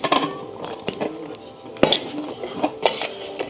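Metal cooking pots, a large pot with a smaller pot nested inside, are handled and stacked, giving a series of sharp clanks and clinks at close range with uneven, irregular rhythm and no talking.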